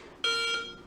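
A single sharp electronic beep from an iTarget Pro laser training timer, starting abruptly and holding for about half a second before fading, close and clear in a quiet room.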